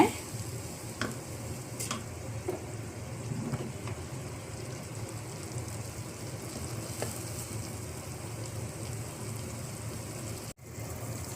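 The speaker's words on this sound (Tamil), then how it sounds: "பொரிஞ்சதும் அரைச்சி வச்சுருக்க புதினாவை சேர்க்கணும். புதினா நல்லா எண்ணெய் பிரிஞ்சு வர அளவுக்கு வேகணுங்க." Ground mint paste fries steadily in ghee for pudina rice, a continuous close sizzle with occasional stirring clicks and scrapes, no voices.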